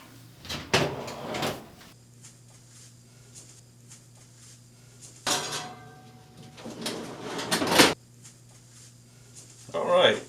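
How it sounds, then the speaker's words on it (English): An oven door in a home kitchen is opened, a pan of homemade biscuits slid in, and the door shut, heard as a few clattering metal bangs and rattles close by, with quieter gaps between them. "let's stick her in the oven and get her going?"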